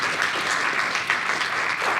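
Steady, dense applause from a conference audience at a closing session, even and continuous without pauses.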